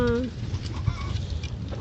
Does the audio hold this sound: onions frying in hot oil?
no